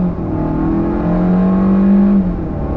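A 2021 Kia K5 sedan with about 190 horsepower accelerating hard after a U-turn, a loud, close engine drone rising steadily in pitch for about two seconds before easing off.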